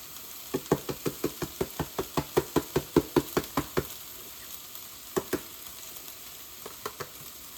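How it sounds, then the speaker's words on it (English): Seasoning with cumin is stirred in a frying pan over a low sizzle, in a quick regular run of about fifteen knocking scrapes, then a few isolated taps; no talking. "Give that a good stir."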